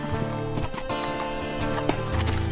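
A saddled horse with a pack horse on a lead rope, hooves clip-clopping and a whinny rising over a loud, dense background of music and effects.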